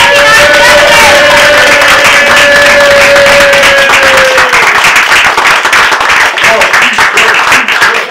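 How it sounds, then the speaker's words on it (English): A business club birthday event crowd breaks into loud, dense applause with whoops and cheering voices near the start, sustained clapping filling the room for about eight seconds. "So round of applause."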